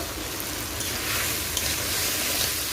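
Crab pieces and fried potatoes hiss and sizzle in hot masala being sautéed for a spicy crab bhuna, a steady, close, fairly loud frying sound with no talk.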